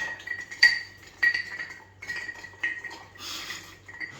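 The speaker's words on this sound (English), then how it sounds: "you just want to sit there, give it a nice little stir" A bar spoon stirs a martini in a glass, giving a series of light, bright clinks at an uneven pace against a quiet background, with no talking.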